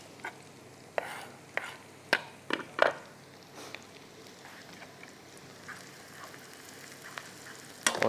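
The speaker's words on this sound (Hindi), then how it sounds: "प्याज हो रही है फ्राई। प्याज को अच्छा ब्राउन करना है।" Onions frying in a pan until brown, a low steady sizzle broken by occasional sharp scrapes and stirring clatters, close by with no talk.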